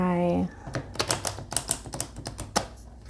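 A tarot deck, its major arcana cards, is shuffled by hand in quick, irregular papery flicks and snaps after a short voice at the start; the riffling is close and crisp.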